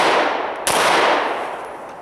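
A single sharp shot from a Smith & Wesson M&P C.O.R.E. 9mm pistol with a red dot sight cracks loudly at an outdoor range, followed by a long fading echo and no talking.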